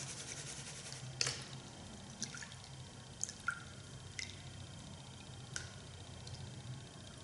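Sand is washed with water in a riffled gold pan. Quiet, sparse drips and small splashes land over a faint wash of water, with no talk.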